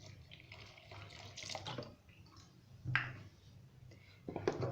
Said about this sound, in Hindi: अब मैं इसमें थोड़ा सा पानी डालूंगी। ठंडा पानी मैं डाल रही हूँ